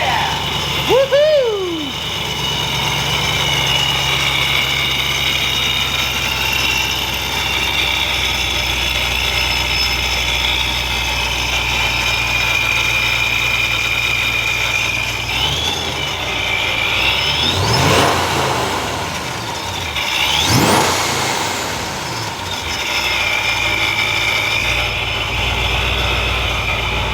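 A 2010 Chevrolet Camaro SS V8 fitted with a Procharger P1SC supercharger runs steadily at idle with a continuous whirring tone, its smooth engine drone broken by two brief rising revs near the end.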